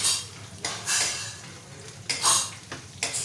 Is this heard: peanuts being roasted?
yes